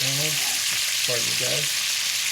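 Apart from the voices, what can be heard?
food sizzling while searing in a pan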